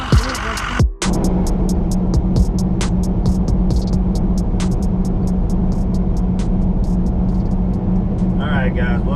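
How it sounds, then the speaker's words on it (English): Steady low rumble inside a car on the road home from Bradenton, a constant engine and tire drone filling the cabin with scattered small clicks and a short dropout near the start. "We are driving home from Bradenton"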